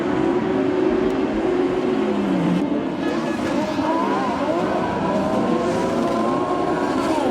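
Buggy 1600 race cars in a FIA rallycross event roar off the start and accelerate, engines rising in pitch together, loud and continuous with rising and falling tones throughout, under faint crowd or commentary noise.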